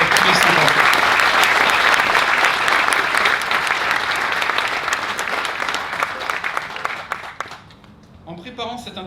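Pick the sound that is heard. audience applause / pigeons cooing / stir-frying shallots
audience applause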